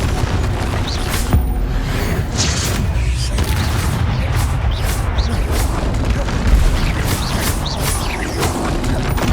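Confringo fire spell explosions among other spell effects in Hogwarts Legacy combat, repeated loud booms and crashes over a dense battle soundscape, with a voice calling out spell names.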